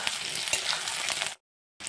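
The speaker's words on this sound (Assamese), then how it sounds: "আলুকেইটা অলপ ভাজি কৰি ল'লোঁ" Close, bright frying sizzle of potatoes in hot oil, a dense crackling hiss that cuts out abruptly and then briefly resumes.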